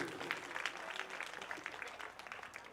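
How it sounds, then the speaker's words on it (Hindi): An audience claps for a devotional singing group at a Hindu kirtan gathering, a steady patter of many hands sustained across the whole stretch at moderate, slightly distant volume. "जोरदार ताली बजाइए आप लोग मध्यस्थ मंडली के लिए"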